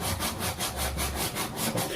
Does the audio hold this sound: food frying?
no